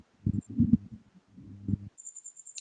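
Cricket chirping, probably a sound effect, enters after a second or so of low muffled thumps: a steady, high, pulsing trill that runs to the end of the short clip.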